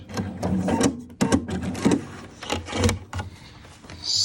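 A sewing machine bastes fabric between notches from the raw edge in several short bursts of mechanical whirring and clatter, close and fairly loud, with brief pauses between runs.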